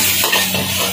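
Ginger-garlic paste hits a hot restaurant pan of Schezwan stir-fry in Haldwani, a brief loud sizzle with a scrape or two of a spatula over a steady kitchen hum.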